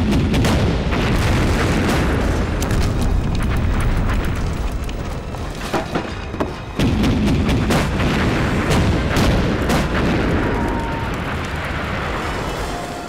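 Japanese artillery shells a defensive position in a war film, a loud, dense, continuous barrage of overlapping booms and rumbling blasts that fills the whole stretch with no talking.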